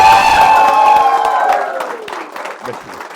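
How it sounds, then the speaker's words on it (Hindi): An audience gives a standing ovation to a guest being welcomed at an event, with loud cheering, whoops and clapping that start strong and gradually taper off. "खड़े पे ताली बजनी चाहिए।"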